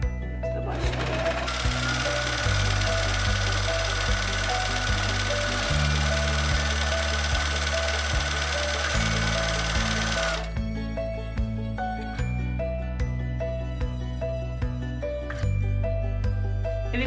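A sewing machine runs an overlock stitch along fabric, its motor humming and needle clattering in a rapid, continuous rhythm up close, with brief pauses and speed changes, then lighter mechanical clicks and handling sounds toward the end.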